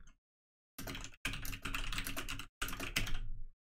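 Rapid typing on a computer keyboard while coding, in three dense bursts of clicking keys separated by short pauses, close and clear with no talk.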